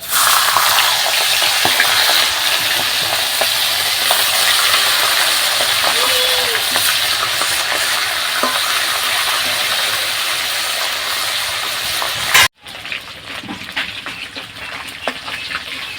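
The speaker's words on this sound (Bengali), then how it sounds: "ওই তেলে আমি মাছের মাথাগুলো ভেজে নিচ্ছি" Loud, dense sizzling of hilsa fish heads frying in hot oil fills most of the clip close up, then cuts off abruptly, leaving quieter kitchen clatter.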